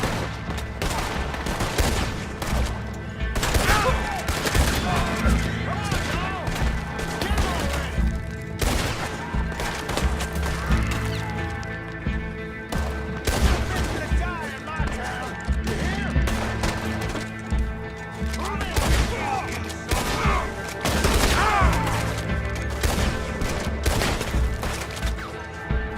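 Rapid gunfire from a shootout with U.S. Marshals in the Red Dead Redemption 2 video game, with dense overlapping shots and bursts running almost continuously, loud and close, with game voices talking over it.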